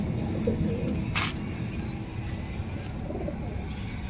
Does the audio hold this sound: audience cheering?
no